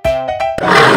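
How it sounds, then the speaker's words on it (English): A lion lets out one short, close roar that begins with a tonal growl and swells into a loud, raspy rush of breath. "lion."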